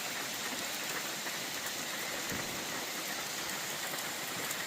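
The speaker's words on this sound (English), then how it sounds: "Because sometimes the rain blows in sideways," Steady rain falls at a campsite, a dense continuous hiss of drops pattering on surfaces, even and unbroken throughout, with no voices.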